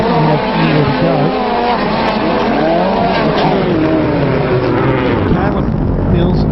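Race cars roar past on a track as one car, its rear inside tyre punctured, bounces around, giving loud, continuous engine noise with squealing, shifting tones and a commentator talking over it.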